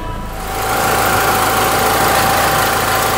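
A 2004 Mitsubishi Lancer Ralliart engine runs for a long stretch to check for overheating, a loud, steady idle hum with a faint tone that swells slightly in the first half second and then holds even, with no voices.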